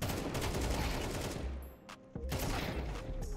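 Automatic rifle fire sprays in Counter-Strike 2, loud dense bursts of rapid shots with a brief pause in the middle before the firing resumes.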